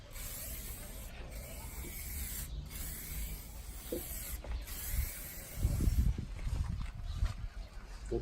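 A spray gun lays a second coat of paint on an oxidized Nissan Patrol fender, a steady close hiss broken by brief pauses, with some rubbing and mechanical clatter toward the end and no talk.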